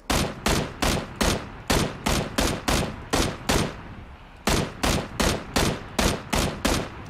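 Gunfire in the PUBG battle royale game rings out as rapid, evenly spaced loud shots in quick bursts, pausing briefly midway before the steady firing resumes, close and dominant with no talk.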